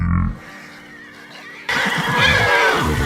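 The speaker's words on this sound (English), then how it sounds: "the horse. Not gonna let any harm come to you." Horse neighing in the Ghost of Yotei video game, a loud drawn-out whinny breaking into an energetic, shaky call over a short rumble.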